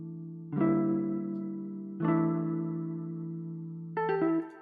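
Three sustained melodic synth chords for a hard trap beat ring out one after another, each struck cleanly and decaying slowly, with a slightly eerie tone and no voices.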